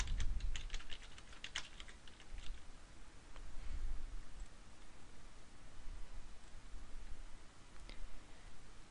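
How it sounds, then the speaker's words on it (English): Search terms typed on a computer keyboard, quick bursts of close, crisp key clicks clustered at the start, then scattered taps and a soft hiss through the rest. "In the search box, type in your search terms or keywords."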